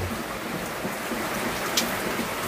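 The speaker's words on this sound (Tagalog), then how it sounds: "Tapos ang ulan ay halos magdamag na ang ulan ngayon." Steady rain falls through the night into morning, a dense even patter on surfaces with no voices, moderately loud and continuous throughout.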